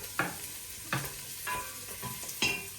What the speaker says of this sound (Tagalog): Siyempre, igisa muna natin ito.